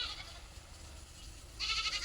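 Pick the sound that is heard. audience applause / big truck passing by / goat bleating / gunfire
goat bleating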